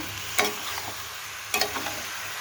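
Cabbage frying in a pan with spices while a spoon stirs it, giving two distinct scraping strokes over a soft, steady sizzle, heard close up.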